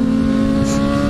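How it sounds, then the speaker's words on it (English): A Kawasaki Z1000 motorcycle with a damaged body revs hard while pulling wheelies, a loud, steady, close engine drone with a strong held pitch for the brief moment. "His bike's fucked up and he's still doing wheelies"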